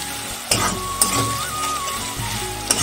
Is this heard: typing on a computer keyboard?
no